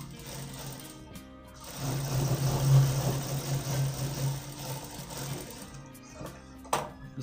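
A sewing machine stitches a seam on a double aster blouse, running in one steady, fairly close burst of whirring stitches for about two and a half seconds, with quieter handling sounds before and after.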